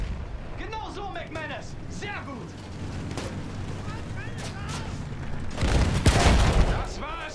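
Battlefield 1 gameplay: a burst of gunfire and a heavy explosion knock out an enemy tank, the loud boom rumbling near the end while someone talks excitedly over the game sounds.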